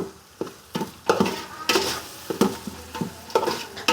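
Tomatoes sautéed and mashed in a pan for Pondicherry-style biryani, with a steady sizzle broken by repeated scraping and pressing strokes of a spatula, close and fairly loud.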